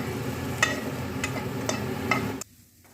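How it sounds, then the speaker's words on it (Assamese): Chopped chilli and garlic lightly roasting in a pan, a soft steady sizzle with a few sharp stirring clicks, ending abruptly as the heat is cut. "জলকীয়াটো টুকুৰাকৈ দিছোঁ। আৰু নহৰুখিনি দি পেলাই এইখিনি এতিয়া অকণমান সেকি লৈ"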